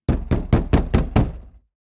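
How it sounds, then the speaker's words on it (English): Six heavy, evenly spaced knocks bang on a door in quick succession, loud and close, followed by a brief ring-off into silence. "If we take the sound of banging on a door"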